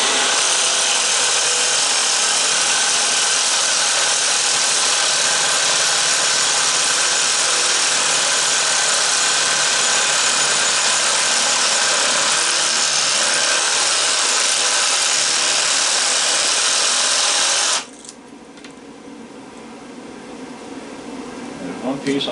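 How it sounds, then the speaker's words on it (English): A Sawzall reciprocating saw cuts through a scrap transformer being broken down for copper and aluminum, a loud, steady buzzing grind running for about eighteen seconds before it stops abruptly, leaving a quieter background. "I'm going to use a sawzall here."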